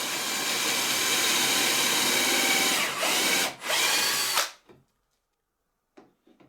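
A power drill bores dowel holes into the edge of a wooden bookcase board held in a doweling jig, running steadily and loudly for several seconds with two brief dips before stopping.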